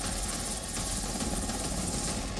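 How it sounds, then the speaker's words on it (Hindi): Chinook heavy-lift multi-role military helicopter with a steady, loud rotor and engine roar that fills the whole stretch, broadband and unbroken with no voices. "Chinook heavy lift multi role helicopters हैं।"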